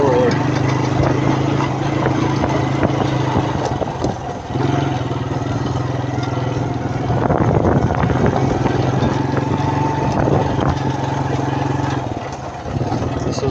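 A Suzuki Quad Runner LT160 quad engine runs steadily on its first ride after three years, a loud continuous drone with slight revving swells and brief dips, heard close with some voice mixed in.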